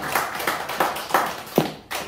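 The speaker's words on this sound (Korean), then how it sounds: "다시 한번 박수입니다." A few separate hand claps at a steady, slightly uneven pace ring out in a small gathering at the opening ceremony of a Liberty Village office in Sinpyeong 1-dong, Saha, Busan. The claps are sharp and close, with a brief pause near the end.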